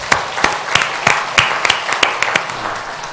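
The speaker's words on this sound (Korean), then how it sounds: "모두 큰 박수 한번 해주시죠." A church congregation gives a round of applause during an annual members' assembly, with sharp, fairly sparse claps close by and steady, rhythmic hand-clapping throughout.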